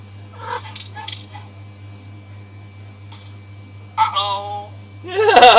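A dog whimpers and yips in a Stray-like cat simulator game, with short whines coming in separate bursts over a steady low background hum and growing louder near the end.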